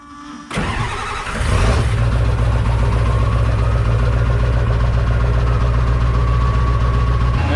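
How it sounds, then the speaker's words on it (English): An old body style truck engine cold-starts: a short crank, then the engine catches and settles into a loud, steady, close idle that continues unbroken, with no voices. "I'm gonna go ahead, do a cold start on this thing."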